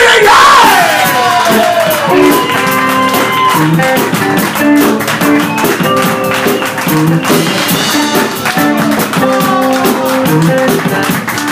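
A live crowd cheers, yells and applauds for the band's drummer as he is introduced at a band presentation. The loud, sustained cheering runs over continuous band music.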